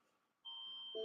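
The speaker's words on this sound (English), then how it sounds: "Greg, is that really your alarm?" A phone alarm tone that starts partway through as a steady, high electronic beep, holding continuously and growing slightly louder at the end, with no talk over it.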